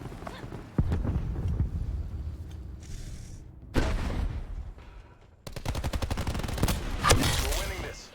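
A semi-auto explosive assault rifle fires in the Black Ops 4 video game: sharp reports and blasts arrive in bursts, with a rapid run of shots near the end and game noise between.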